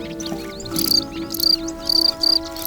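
Male crickets defending their burrows rub their wing cases together, giving several short, bright chirp bursts in a steady rhythm over a droning background, close and fairly loud.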